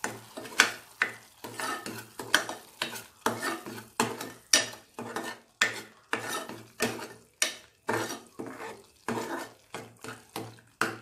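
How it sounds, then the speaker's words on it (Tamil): Paneer butter masala gravy stirred in a pan with a spoon, about fifteen rhythmic scraping strokes against the metal, close and fairly loud over a low steady hum, with no talking. "இதை இப்போ நல்லா கலந்து விட்டுக்கலாம்."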